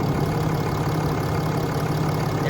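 A 2010-2018 Ram 2500 Cummins diesel idles with its oil cap off during a blow-by check, giving a loud, steady, close rumbling hum that stays even throughout.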